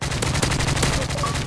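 Automatic M4 rifle fire in Modern Warfare 3, a loud rapid burst of evenly spaced shots running the whole short stretch, close and dominant.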